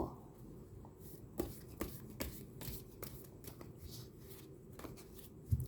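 Tarot cards being shuffled by hand, giving a soft, close riffling and flicking with occasional sharper taps, quiet and steady with no talking.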